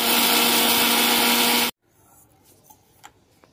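A mixer grinder whirs loudly, grinding roasted spices with tamarind and salt for dry garlic powder, a steady dense roar for under two seconds before cutting off abruptly, followed by faint clinks and handling sounds.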